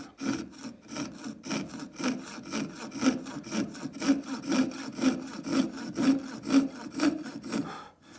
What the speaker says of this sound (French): je fais glisser la lame de scie sur mon ongle